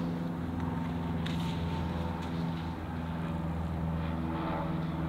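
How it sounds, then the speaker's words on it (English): Propeller airplane flying overhead above a horse barn on a cold, clear day, a steady droning engine hum with a strong low tone, continuous and fairly close, with no voices. "there's a really annoying plane just flying over top of us."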